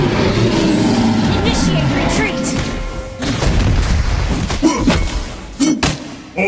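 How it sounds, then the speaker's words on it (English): In the Mobile Legends video game, a turret is destroyed amid dense battle effects: booming impacts, thuds and crashing blasts under a continuous roar, with an announcer voice speaking over the action. "Your team destroyed a turret!"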